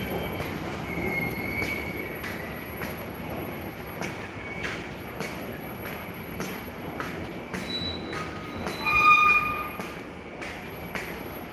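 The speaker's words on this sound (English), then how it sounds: "Train to Flushing." A New York subway train bound for Flushing rumbles steadily along the track. Its wheels give a sharp, high squeal that peaks loudly about two-thirds of the way through, with no talking over it.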